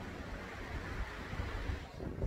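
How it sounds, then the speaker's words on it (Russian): Strong wind gusting and rumbling against the microphone outdoors among trees in France, a continuous low roar with no voices. "Смотрите, какой ветер вообще, обалдеть."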